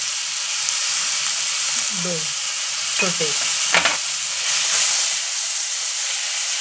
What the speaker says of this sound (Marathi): आलं लसूण कांदा याच्यामध्ये आपण हा टोमॅटो जो आहे हा छानपैकी आता परतून घेणार आहोत।